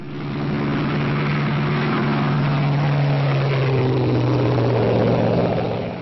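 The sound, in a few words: airplane flying sound effect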